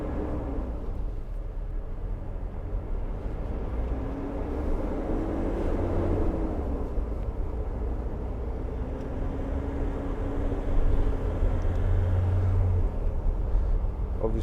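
An unladen 2016 Nissan NT400 Cabstar 35.14 MWB dropside truck drives along, its steady engine and road rumble droning throughout with a slight swell near the end.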